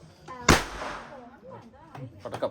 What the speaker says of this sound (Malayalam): പടക്കം ഇപ്പൊ എറിയുന്നുണ്ട്.